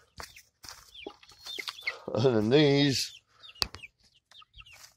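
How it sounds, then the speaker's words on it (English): Month-old chicks cluck and chirp close by, with one drawn-out squawk in the middle, while a person talks softly over them. "Hi, little baby chickens."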